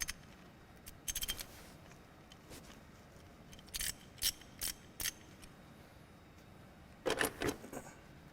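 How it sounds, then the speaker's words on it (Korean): A ratchet wrench clicks as a fixing bolt comes off a car engine's ignition coil, with several short bursts of rapid ratcheting separated by quiet pauses, close but fairly soft. "공구를 사용해서 자, 고정 볼트를 탈거하겠습니다"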